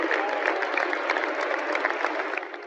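Stadium crowd at a Manchester City football match clapping in a round of applause, a dense continuous patter of many hands, steady throughout and heard from within the crowd.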